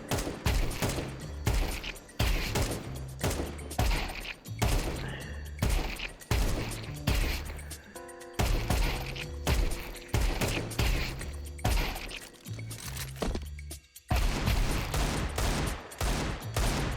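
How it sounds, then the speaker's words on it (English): Rapid AK rifle bursts fire at bots in Counter-Strike 2, loud and repeated in dense volleys with brief gaps across the whole stretch, with a voice talking underneath. "I have my AK, and you can just shoot them around like that"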